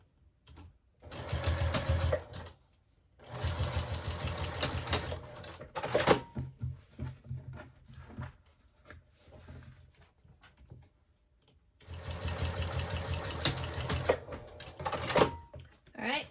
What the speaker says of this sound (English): So now we can go ahead and move on to the back. And we'll do the same thing, top stitching.